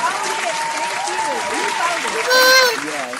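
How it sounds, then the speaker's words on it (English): Applause during a live talk show, a steady wash of clapping heard close and fairly loud, with a voice speaking and calling out over it. "I want to clap it up for the Black men that did vote"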